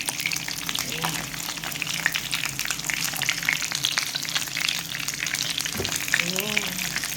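Chicken feet fry in hot oil, a steady dense sizzle with scattered pops and spatters close by, with brief stirring sounds near the end.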